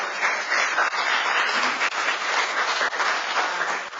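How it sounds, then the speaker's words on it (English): An audience at a lecture event applauds in a steady, full wash of clapping hands that holds evenly throughout. "let's give a big round of applause to Dr."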